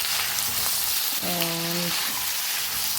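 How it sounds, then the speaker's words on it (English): Chopped tomato sizzling in a hot pot of rice and vegetables, giving a steady close frying hiss, and a short metallic clang partway through. "and a medium-sized tomato chopped up. Give it a mix."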